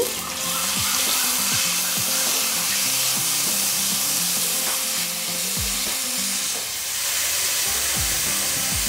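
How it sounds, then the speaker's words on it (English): Onions frying in coconut oil in a pan, a loud, continuous close sizzle with faint stirring and clinking sounds, no voices. "So let's start with the oil first. Now this is coconut oil. So now I'm going to start off with adding the onions in."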